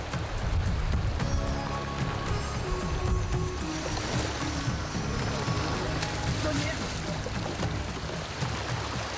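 Shallow upstream river rushing over protruding rocks as a boat squeezes between them, a steady close broadband wash with faint speech-like murmur underneath.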